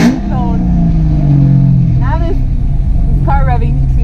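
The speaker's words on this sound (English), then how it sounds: "Car revving, so you may not be able to hear me" Cars revving at a quarter-mile drag strip, a loud sustained engine drone with a falling pitch, interrupted by a person talking close over the noise.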